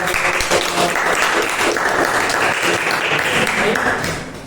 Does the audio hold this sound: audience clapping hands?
yes